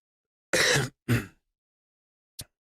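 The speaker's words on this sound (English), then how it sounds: "I didn't want to cough on microphone" A person clears their throat twice in quick succession, close and fairly loud, followed by a brief, sharp cough-like catch, with silence between the sounds and no talking.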